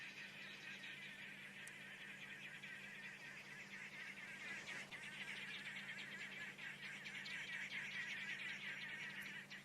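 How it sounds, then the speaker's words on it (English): Noisy birds, among them arrow-marked babblers, call continuously from the bush on a safari drive, a steady chattering chorus at moderate distance that swells slightly toward the end, with a low engine hum beneath. "Oh, noisy birds."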